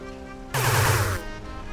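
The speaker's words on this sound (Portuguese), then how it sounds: "Se você segurar o botão de ação de tiro aí, ele solta vários tiros, hein?" A short burst of rapid-fire laser gun shots in GTA V, electronic, loud and dense, lasting under a second over a steady game background.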